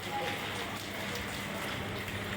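Steady rain falls outdoors on a street where people head to work in the wet, a continuous broadband hiss filling the whole stretch at moderate level, with faint background voices or traffic mixed beneath.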